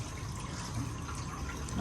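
Water for cooking is poured in a steady, close, rushing stream that fills the whole short stretch at an even level.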